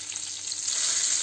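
Burbot fish cutlets fry in a covered pan, giving a steady, close hiss of sizzling oil with no pauses and no voices.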